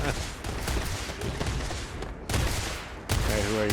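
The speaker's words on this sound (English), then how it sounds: "Oh, looks like it's just a shooting range." Sustained bursts of weapon fire from a shooting range in the video game Starfield, loud and continuous with two brief gaps, and a voice cutting in over the shots at the close.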